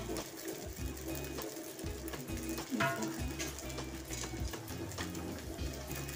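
Sabudana (sago pearls) being sautéed and stirred in a pan produces a soft, continuous sizzle with scraping stir strokes and light clatter, heard close up.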